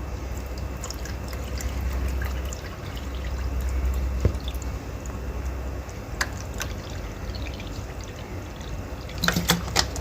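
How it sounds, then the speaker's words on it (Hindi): Water pours and trickles steadily into both ports of a bird drinker, a soft continuous gurgling stream with occasional drips and small clinks, quiet and without talk. "सबसे पहले आपने जो दोनों पोर्ट्स हैं उन्हें पानी से भर लेना है।"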